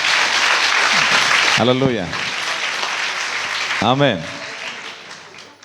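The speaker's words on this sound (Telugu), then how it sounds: "రైట్, అందరూ ఒకసారి చప్పట్లు కొడదాం బిగ్గరగా" A church youth revival audience applauding loudly during a praise and worship session, dense steady clapping throughout with voices calling out over it.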